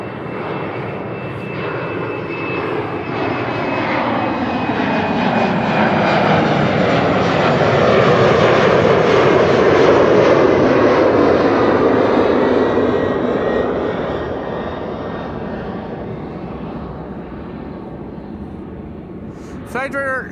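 An Embraer 190 jet departs Amsterdam Schiphol, engine roar rising to a loud peak then fading as it climbs away, with a thin whine over the rumble and a voice speaking near the end.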